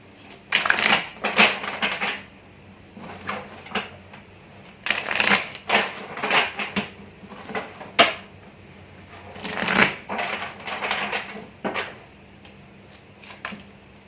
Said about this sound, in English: I'm going to shuffle the Aquarian Tarot.